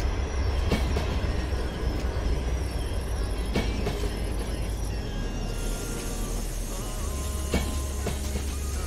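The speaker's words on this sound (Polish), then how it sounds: "Troszkę hamulce muszą popiszczeć." Train brakes squealing on a short ET41 and SU42 regional passenger run in the MaSzyna train simulator, a steady low rumble with thin high squeals sustained throughout, no talking.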